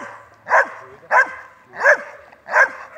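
A female dog barks four times at an even pace during a protection training simulation, each bark sharp and close against a quiet background.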